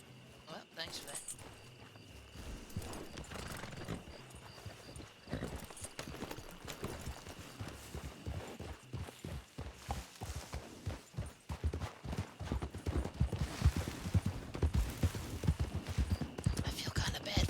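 Horse hooves clip-clop steadily in a video game, a rhythmic patter of moderate loudness that grows busier and louder toward the end, with someone talking over it.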